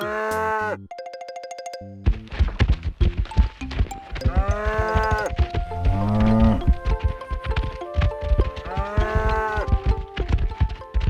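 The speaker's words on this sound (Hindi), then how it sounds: "ये सुनकर भैंसों का झुंड मुफासा के इलाके में जाता है।" Animated story soundtrack with a buffalo herd: repeated loud bleats and lowing animal calls over layered music, with chime-like tones near the start.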